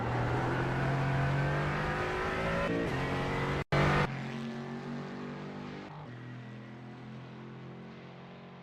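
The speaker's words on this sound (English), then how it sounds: "I'm going to try and turn this engine sound up a little bit." A racing car engine in a GT4 racing video game drones steadily with a sustained harmonic whine, briefly cutting out before resuming at a slightly lower pitch, continuous and alone without talk.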